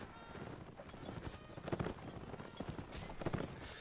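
Horse hooves clip-clop at a steady trotting rhythm in the Napoleonic Wars video game during a line battle, quiet and somewhat distant.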